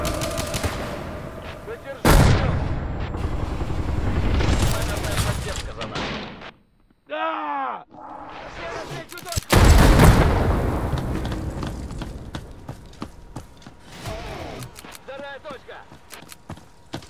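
Grenade explosion and bursts of gunfire in the tactical shooter game Hired Ops, loud booms and rapid automatic fire with a short silent gap midway, while players shout over the action.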